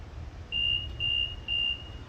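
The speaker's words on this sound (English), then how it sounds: "beep 3 times. Then it's level." Three short, evenly spaced electronic beeps from an aerial lift signalling it is level, over a quiet background hum.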